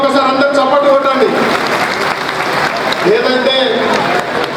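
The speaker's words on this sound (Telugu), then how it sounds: "గట్టిగా ఒకసారి అందరూ చప్పట్లు కొట్టండి." Applause from an audience at a Padmashali community convention, loud sustained clapping throughout with a voice speaking over it and crowd noise.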